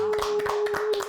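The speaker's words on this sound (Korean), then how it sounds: "여러분 우리 홍진이에게 박수를 한번." A small group of young church members claps briefly for a guest, a few quick, close handclaps in an indoor room, light and sparse rather than a full ovation.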